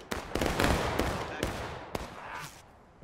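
Dense crackling gunfire from a large Generals at War battle, a rapid fusillade of rifle shots with sharp cracks standing out, heard at moderate distance and loud without talk.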